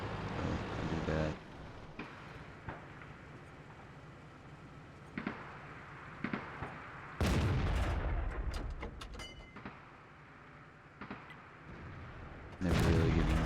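Tank cannon shots from an Object 140 battle in World of Tanks, a few heavy booming blasts spaced several seconds apart over a low rumbling battlefield bed, with loud bursts near the middle and at the end.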